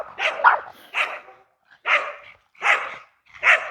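Dogs bark nearby in a steady series of five sharp, loud barks with short pauses between them, with no talk.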